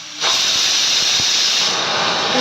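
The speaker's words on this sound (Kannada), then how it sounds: "ಲಿಡ್ನ ಕ್ಲೋಸ್ ಮಾಡಿಬಿಟ್ಟು ಮೂರು ವಿಸಿಲ್ ಕೂಗಿಸ್ಕೋಬೇಕು ರೀ ಚೆಂದ ಮೆತ್ತಗಾಗೋವರೆಗೂ" Pressure cooker on a home stove cooking dal with tomatoes, its whistle venting steam as a loud, sustained hiss that bursts in sharply and holds steady close by, with no talk.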